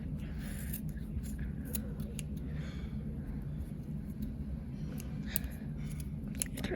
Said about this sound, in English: Cut off all the excess glue